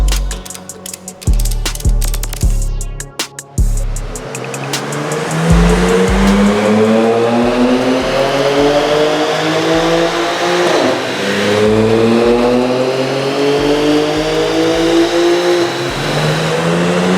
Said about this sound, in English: let's put the car on the dyno and do a couple runs